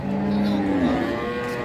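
A cow at a cattle market gives one long, loud, close moo that bends downward in pitch and fades, with faint market bustle behind.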